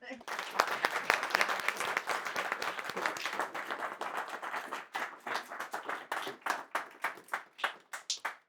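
A crowd applauds with dense, sustained clapping that gradually thins into scattered, individual claps toward the end.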